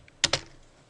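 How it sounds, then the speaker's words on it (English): Two quick clicks of keys on a computer keyboard, close and crisp, the second slightly softer, followed by quiet. "type the word scale"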